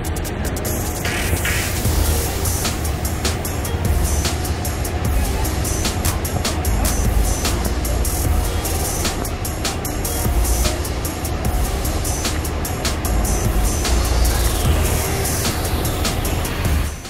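Harapan Jaya bus with a Laksana SR2 body and Hino RN285 engine departing, a loud continuous engine rumble and broad roar that holds steady throughout.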